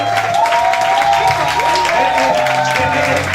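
Church congregation applauding, steady dense clapping across a full room, loud and continuous, with a voice speaking over it.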